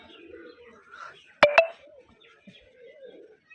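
A pet pigeon feeding on crushed brick chips gives soft, low cooing throughout, broken midway by two sharp, close knocks in quick succession.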